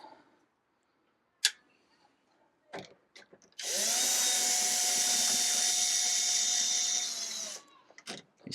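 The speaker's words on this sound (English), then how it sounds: "So I'll just take these screws out that hold it in place." A power drill spins out screws holding a reverse osmosis system's pre-filter housing, one long steady whine lasting about four seconds, preceded and followed by small clicks and handling knocks.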